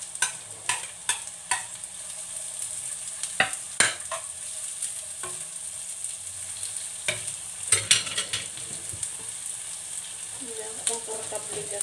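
Chopped onion hitting hot oil in a frying pan alongside ginger while cooking crab in coconut milk, a loud steady sizzle with sharp clicks and stirring scrapes up close.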